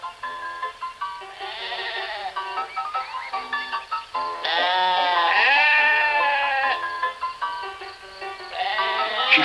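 Several sheep on a farm bleating one after another, wavering calls overlapping, some long and drawn out, close and fairly loud.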